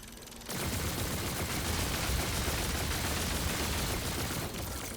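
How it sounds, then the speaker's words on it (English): A cannon turret in the video game Remnant 2 fires a continuous dense roar of rapid blasts. After a brief quieter start it stays loud and sustained for several seconds with no talking. "This is a cannon."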